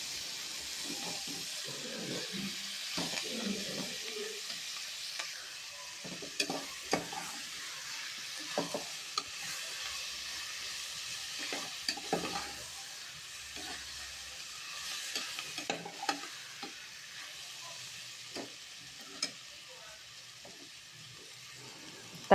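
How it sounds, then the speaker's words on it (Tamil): Tomatoes, green chillies and mint sautéing in a pan for chicken kuzhambu: a soft, continuous sizzle and hiss with occasional sharp spoon scrapes and clinks against the pan, close and fairly quiet, with no voices. "தக்காளி, பச்சை மிளகா, புதினாவை சேர்த்து அது கூடவே வதக்கிக்கலாங்க."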